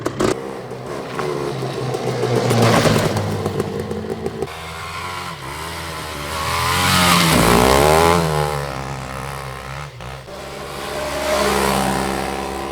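A Suzuki LT500 quad bike engine runs and revs up and down nearby, rising and falling in pitch with a steady throaty drone throughout.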